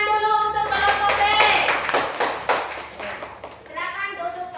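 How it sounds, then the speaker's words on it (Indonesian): A class of children applauding a presenting group in a classroom, a burst of clapping swelling then fading, with voices talking around it. "Tepuk tangan dulu untuk kelompok B."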